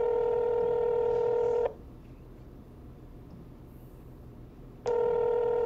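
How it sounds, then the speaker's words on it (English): A telephone ringing tone heard over a speakerphone: two loud, steady electronic buzzes, one at the start and another near the end, separated by a quiet gap of a few seconds, with no talk. "That's the ringing sound."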